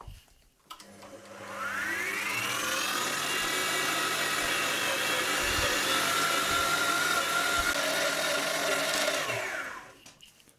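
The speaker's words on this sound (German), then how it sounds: "Ich beginne jetzt mit dem Wolfen von der Grobeinlage" A meat grinder fitted with an 8 mm plate minces coarse meat for homemade Jagdwurst, a steady loud motor whine with churning, grinding texture, running continuously for about nine seconds before stopping.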